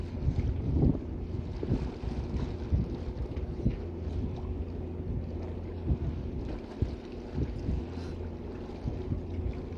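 A boat engine churns in a steady low drone, mixed with wind buffeting the microphone and occasional knocks.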